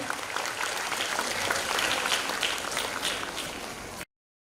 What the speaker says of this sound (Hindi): ताली बजा दीजिए जोरदार.